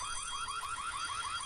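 Many electronic alarms in a Halloween-themed video game sound at once in a continuous warbling, siren-like whoop that repeats in quick cycles, loud and steady with no voices.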